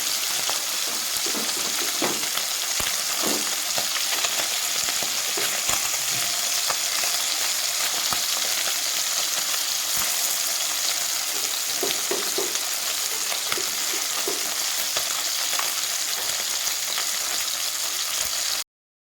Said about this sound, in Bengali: আমার মাছগুলো ভাজা হয়ে গেছে